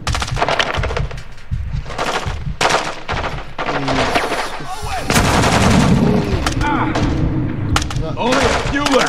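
Heavy gunfire in the video game Modern Warfare II, loud close shots and rapid bursts cracking over an intense battle soundscape, with low rumbling impacts and voices talking in between.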